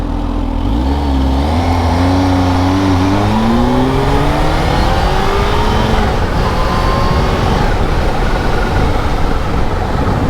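A Kawasaki Z H2 motorcycle engine launching hard, loud and close, its roar climbing steadily in pitch as it accelerates through the gear with no talk.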